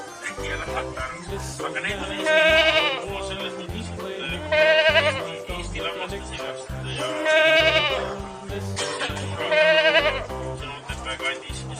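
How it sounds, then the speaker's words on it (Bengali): Young goat kids bleat in several wavering, repeated calls spaced a few seconds apart, set against rhythmic background music. "ছয়ে ছাগল ছানা লাফিয়ে চলে।"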